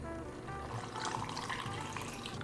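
Water being poured into a blender jar for a cinnamon smoothie, a steady, close, gurgling splash that runs continuously for a couple of seconds.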